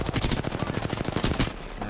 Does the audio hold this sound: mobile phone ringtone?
no